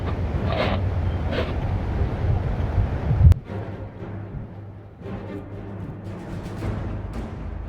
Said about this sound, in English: Must just be the wind.